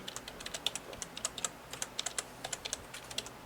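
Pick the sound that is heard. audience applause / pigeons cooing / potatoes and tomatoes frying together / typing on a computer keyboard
typing on a computer keyboard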